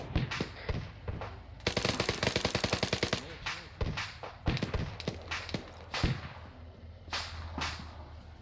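Rapid gunfire in ArmA 3, with scattered sharp single shots and a sustained automatic burst in the middle, loud and close, sometimes mixed with more distant reports and a faint bit of talk.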